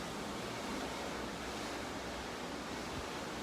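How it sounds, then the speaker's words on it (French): Rough sea and strong wind heard aboard a cruise ship: a dense, unbroken roar of waves and buffeting wind, loud and steady, with no speech. "Et là en fait la mer elle est agitée de fou."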